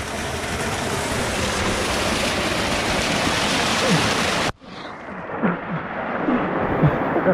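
A waterfall in the Caney Creek Wilderness of Ouachita National Forest pours into a swimming pool with a loud, steady roar that cuts off abruptly, leaving a softer, closer wash of water.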